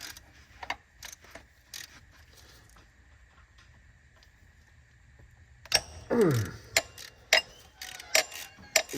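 A wrench breaking loose a 15 mm bolt on a 6.7 Powerstroke during a CP4 to DCR pump conversion, a faint steady hum then a sudden creaking crack followed by several sharp metallic clicks and taps.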